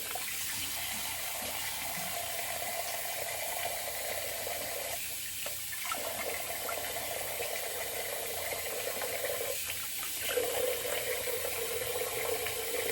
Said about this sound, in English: got a little more warm water going on here